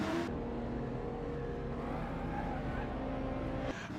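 A 1967 Camaro SS engine runs hard while driving, a loud continuous drone whose pitch climbs and shifts as it goes through the gears, with an abrupt change near the end.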